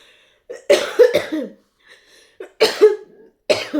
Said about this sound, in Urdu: ابھی بھی کبھی کبھی جوش مارتا ہے، کھانسی کو آ جاتی ہے مجھے